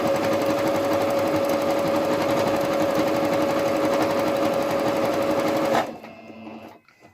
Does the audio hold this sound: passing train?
no